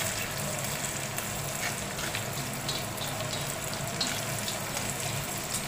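Ginger garlic paste sautés in a pan for a liver fry, giving a steady, even frying hiss that stays constant throughout with no distinct stirring strokes or voices.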